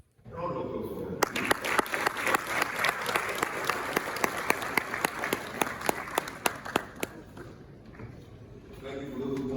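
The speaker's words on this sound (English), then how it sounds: "Round of applause for him." Audience at a CEO awards event applauds with an extended round of clapping, dense and fairly loud, with a few sharper claps standing out, tapering near the end as voices return.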